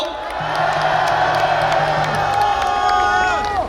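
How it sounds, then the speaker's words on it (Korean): Crowd at an outdoor Taegukgi rally in Korea cheering, whooping and clapping in welcome as a professor is introduced, a dense sustained roar with shouts and tonal voices running steadily throughout. "박수로 환영해 주십시오."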